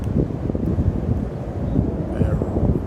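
Cold wind blowing outdoors near a reserve air base, low rumbling gusts buffeting a cell phone microphone, loud and continuous for a few seconds.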